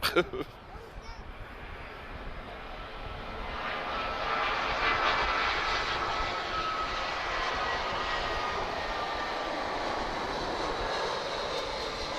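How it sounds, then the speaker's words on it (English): A British Airways Airbus A319-131 arriving at Lisbon Airport makes a broad, steady jet roar that builds and then holds at a moderate distance, with someone talking faintly over it. "we've got A319-131 British Airways. This is BA 500 and he's arriving from London Heathrow."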